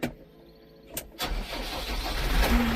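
A 2020 McCormick X6.55 tractor engine cranks with a couple of short starter bursts, then catches and settles into a steady, loud diesel rumble close by.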